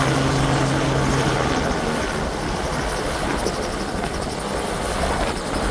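RedLine helicopter flying at the stainless-steel StarBase helipad at Raptor Roost, a steady loud rotor and engine roar filling the whole stretch close by, with no voices.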